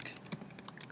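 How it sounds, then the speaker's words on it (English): Computer keyboard keys tapped in a short, quick, uneven run of light clicks while an email address is typed, close and fairly quiet with no voice. "And then you type in your email address"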